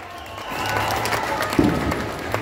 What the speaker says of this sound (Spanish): Aplausos para el número 2.